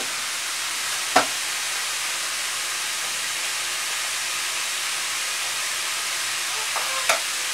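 Vegetables cooking in a pan for lasagne give a steady sizzling hiss throughout, with two brief sharp clinks near the start and end, no voices.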